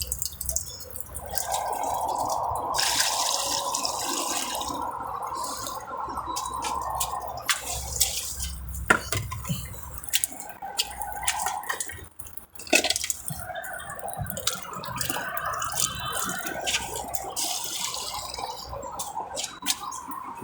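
Water gurgling, draining and dripping in a small solar-powered aquaponics setup with a fish pond, a continuous close trickle with irregular plinks and sloshes and no talk.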